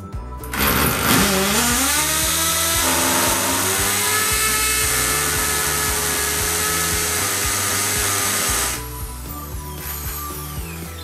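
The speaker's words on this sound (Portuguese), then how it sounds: "Vou preparar aqui para furar a parede" A Bosch power drill whines steadily at close range for about eight seconds, its pitch shifting as it bores into a wall, then winds down and stops.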